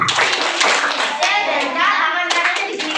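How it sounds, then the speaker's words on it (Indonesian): Children at an elementary school Ramadan program clap together in a quick patterned rhythm, hand claps loud and close with children's voices mixed in. "kita tepuk senyum dulu ya. Tepuk senyum dulu. Tepuk senyum."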